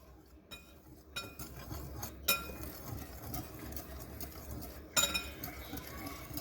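Dry flour, sugar and baking powder being mixed in a glass bowl for Korean corn dog batter, heard as light clinks and scrapes of a utensil against glass, with a few sharper taps standing out.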